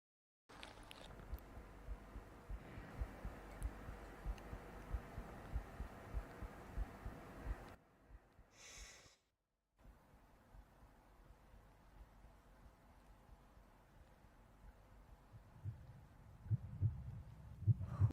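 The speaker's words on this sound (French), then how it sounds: "Pourquoi ton cœur bat-il si vite?" A heartbeat sound effect from a French romance drama thumps in a steady low throb, dropping out briefly midway before resuming with a few stronger beats near the end.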